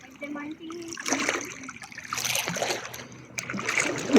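Sea waves splash and surge close by in uneven waves at Terengganu, with a voice speaking briefly over the sloshing.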